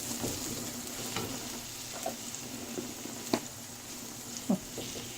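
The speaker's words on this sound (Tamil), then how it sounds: "உப்பு சேர்த்துட்டு நல்லா வதக்கி விடுறேன்." Onions with salt sauté in a pan for an avocado sandwich, giving a steady close sizzle broken by a few sharper spoon scrapes and stirring knocks, with no talking.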